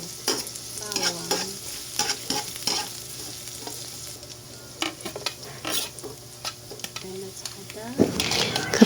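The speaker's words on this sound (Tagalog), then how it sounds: "Pag mainit na ang mantika, mag-isa tayo ng sibuyas, bawang," Onion, garlic and ginger sauté in hot oil for clam tinola, with a soft sizzle under repeated scraping and stirring strokes of a utensil against the pan, close and moderately quiet.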